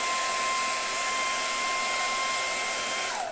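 A hair dryer blows steadily on a CD case label to heat it, a continuous close whooshing hum with a faint whine that falls away as it switches off at the end.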